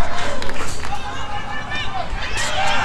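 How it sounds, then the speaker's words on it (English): Crowd of school spectators at a baseball game between ISM and ISB cheering and murmuring, a steady mid-distance roar with rhythmic pulses early on, blended with scattered voices and chatter. "ISM crowd getting into it"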